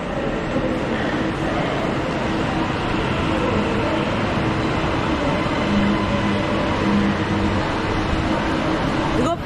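The Edinburgh passenger service pulls into Preston station with a continuous loud rumble of wheels and rolling stock close by, sustained for the whole stretch with faint voices in the background.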